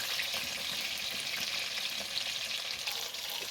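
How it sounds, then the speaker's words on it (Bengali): Chicken pieces frying in hot oil and being turned in a pan, a dense, even sizzle with soft scraping stirs, close and unbroken throughout. "দেখুন এরকম উল্টে পাল্টে লাল লাল করে আমি মাংসগুলো ভেজে নেব।"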